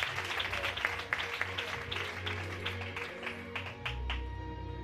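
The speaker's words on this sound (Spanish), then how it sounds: "Yo creo que ese aplauso se le puede dar con más fuerza." A church congregation applauds during a Good Friday service, a scattered, moderately loud patter of clapping that swells and thins over several seconds with a low hum beneath it.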